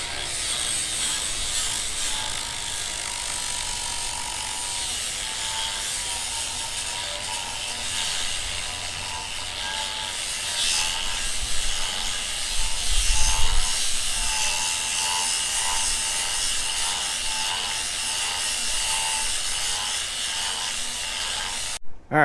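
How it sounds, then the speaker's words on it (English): A flap disc grinder works over a wooden charcuterie board, giving a continuous close, even abrasive whir and rub with a slight heavier surge midway. "I used the flap disc grinder I just showed you and tried to smooth a lot of this out"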